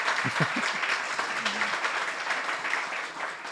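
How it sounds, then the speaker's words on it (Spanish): Audience applause for Luis Cobos, a fellow archaeologist, during a talk program: steady massed clapping at moderate loudness, with a brief voice murmuring in at the start. "Otro aplauso para Luis Cobos, compañero arqueólogo"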